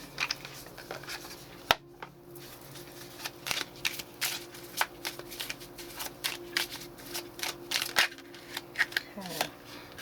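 Oracle cards from the Whispering Woods deck being shuffled by hand, a close run of crisp riffling slaps and flicks in quick irregular bursts, with a voice briefly present.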